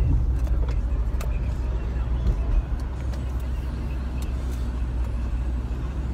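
A car driving on a road, with a steady low rumble of engine and tire noise throughout, loud and close as heard from inside.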